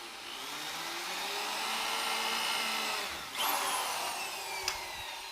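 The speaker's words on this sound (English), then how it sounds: "I'm using water to drill the holes with a" A power drill with a concrete bit, cooled with water, bores holes for toilet flange anchors in a concrete floor. It gives a faint, steady whine, then a sharper burst and a brief tap near the end.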